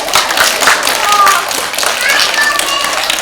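A live audience at a Kermit puppet show claps together in a dense, even patter of applause lasting a few seconds, with a voice speaking over it.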